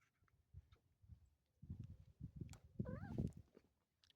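A cat meows a few times nearby, with a clear rising and falling call near the end amid soft rustling and handling noises indoors.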